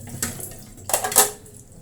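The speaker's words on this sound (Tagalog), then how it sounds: "how to wash the dishes properly" Dishes and plates being washed under running tap water, with a few close clinks and clatters of crockery against the sink, brief and fairly loud.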